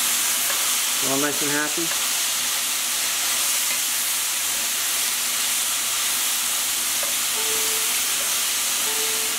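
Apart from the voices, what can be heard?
mushroom pot pie vegetables sizzling and steaming in a pan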